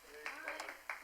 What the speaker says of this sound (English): I've never seen people get claps just for leaving